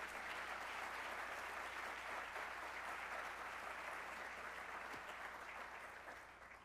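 A large audience at a Montgomery College spring closing meeting applauds steadily, a dense, even wash of clapping that holds throughout and eases off slightly near the end.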